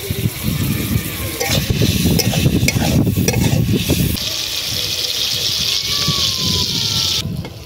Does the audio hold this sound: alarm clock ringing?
no